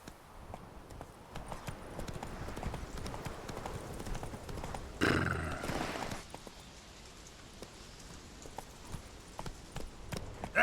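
The horse Roach galloping in The Witcher 3 video game: steady rhythmic hoof clops run throughout, with a louder, denser burst of noise in the middle.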